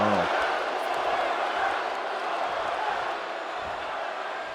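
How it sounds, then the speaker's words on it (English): Steady wall of crowd noise at an amateur wrestling federation show, a dense roar of cheering that holds throughout, with an announcer talking over it. "Crowd cheering one more time."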